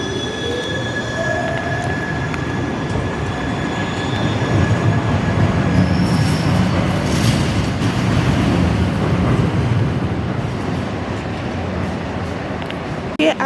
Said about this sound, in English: you may be able to catch the trains going to Utrecht, going to Amsterdam, going to Rotterdam